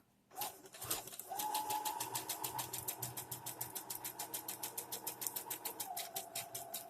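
A sewing machine zigzag-stitches applique fabric, starting with a short clunk and then running steadily with a fast, even, rhythmic whirring patter close by.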